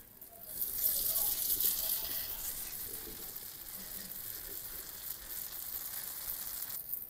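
Oil sizzles steadily in a pan while palm-fruit patishapta cooks, a bright continuous frying hiss with a brief louder burst near the start, close and alone without talk.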